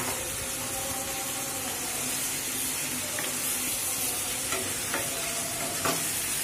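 Biryani masala fries in a pan while it is stirred, a constant close hiss and sizzle with a few faint scraping knocks of the spoon toward the end.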